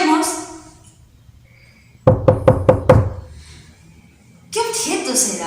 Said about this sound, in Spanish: Es el sonido de la puerta.